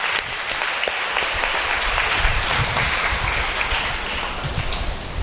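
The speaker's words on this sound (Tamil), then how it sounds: "கைத்தட்டுங்க பாப்பா" Steady applause from a church congregation at a Tamil Christian sermon retreat, dense continuous clapping that holds evenly for several seconds with no voices over it.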